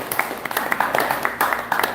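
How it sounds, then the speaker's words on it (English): A short burst of clapping from an audience at a Sunday feast lecture, welcoming a first-time visitor, with scattered hand claps close by and murmuring voices under it. "Let's go round of applause for her."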